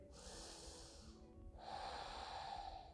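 Deep breathing during seated yoga, heard close and fairly quiet: one long airy inhale, a short pause, then a fuller, rougher exhale.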